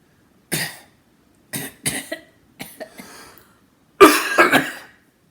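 Several separate dry coughs come in short bursts with pauses between them, followed by a louder double cough near the end, close and clear in a quiet room.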